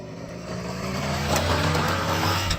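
A Fiat Panda Cross strains up a steep off-road slope, its engine droning loud and close as it labours steadily uphill.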